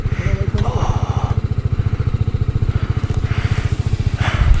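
A motorcycle engine idles while warming up on a cold Shimla mountain road trip, a loud close steady putter with even rapid pulses, with a person talking over it.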